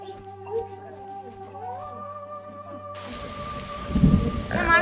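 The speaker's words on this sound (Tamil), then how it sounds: "மழை பெய்யுதுடா." Heavy rain and rolling thunder build in a survival video game, the downpour swelling loudly after a quieter stretch of game music and tones, with a strong rumble near the end.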